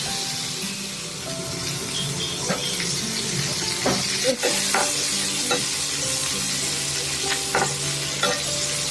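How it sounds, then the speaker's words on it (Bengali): Chopped onion frying in very hot oil in a wok, a steady crackling sizzle up close, broken by sharp spatula knocks and scraping as it is stirred. "কড়া গরম হয়ে গেছে তেলের মধ্যে একটু পেঁয়াজ কুচি দিয়ে দিলাম"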